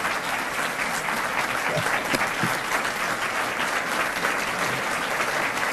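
A dinner audience at a keynote event applauds steadily, a dense, even wash of clapping that carries on for several seconds.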